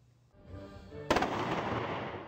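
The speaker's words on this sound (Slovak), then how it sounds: "Na počesť ukončenia druhej svetovej vojny na hrade padali spomienkové výstrely" Commemorative gun salute fired at a castle marking the end of the Second World War: a single sharp blast that booms and echoes on for over a second, following a low rumbling lead-in.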